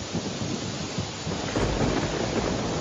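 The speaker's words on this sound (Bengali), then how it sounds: "আহা, কি বৃষ্টি!" Steady heavy rain with a low thundery rumble, a dense continuous hiss that swells a little toward the end, with no voices.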